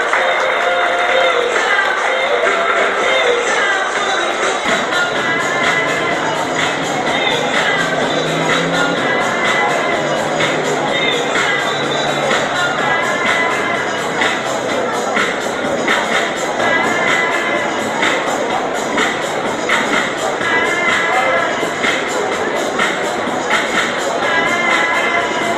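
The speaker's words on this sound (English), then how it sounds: "Let's give Guy a cheer as he goes back to the pits." A crowd at a Coventry sidecar speedway meeting cheers and claps for a rider returning to the pits, a steady roar of applause and shouts that holds at a loud level throughout.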